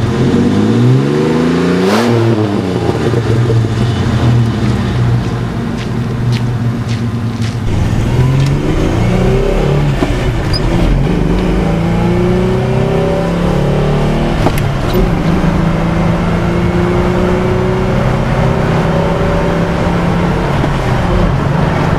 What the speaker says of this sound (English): I'll get you guys a standstill revving video here.